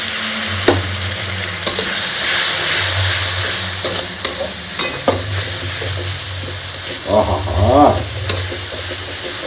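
Dried fish curry with fried potatoes sizzles steadily in a pan while a spatula scrapes and knocks against the metal. A voice briefly exclaims partway through.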